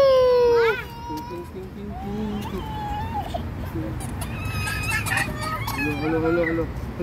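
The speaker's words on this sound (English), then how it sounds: "Oh, birds." Fowl, including a crowing rooster and clucking chickens, call repeatedly close by at Rama IX Bridge Park in Thailand, with people talking over the steady bird noise.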